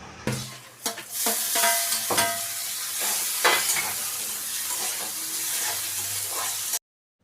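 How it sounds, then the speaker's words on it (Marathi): Onion frying with salt in a pan sizzles steadily, while a spoon scrapes and stirs in repeated clinks over the hiss, close and fairly loud. "मीठ टाकलं की मग कांदा थोडंसं लवकर फ्राय होतो"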